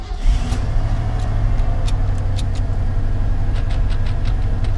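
An old truck engine idles with a steady low rumble throughout, close and loud, with a few faint ticking and clicking sounds on top and no speech.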